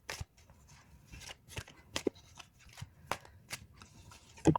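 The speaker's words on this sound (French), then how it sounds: "Je vais tirer une deuxième carte pour avoir plus de précision." Oracle cards being shuffled and drawn by hand, a series of papery riffles, flicks and slides coming in irregular bursts, close and soft, ending in a brisker snap of cards, with no talking.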